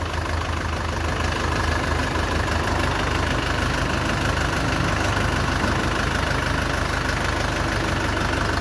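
A 2024 Dongfeng 404 tractor engine idles steadily, a close, continuous mid-to-low diesel rumble with a knocking pulse that keeps an even level throughout, with no talking.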